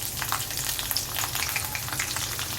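Tempering seeds and green chillies sizzle in hot oil in a pan on the stove for upma, a steady dense crackling fry heard up close with no talking.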